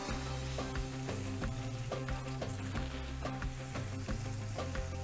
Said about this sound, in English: I'm just going to cook that onion until it softens a little